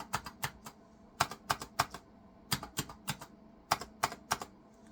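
Keys pressed one after another on a computer keyboard being cleaned, crisp close clicks in small irregular clusters of two to four taps with short pauses between, clear and alone without talking.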